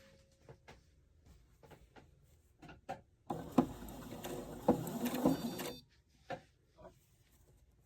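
A Husqvarna sewing machine runs for a couple of seconds with a quick mechanical whir and clatter, set between scattered soft clicks and handling taps in a quiet room.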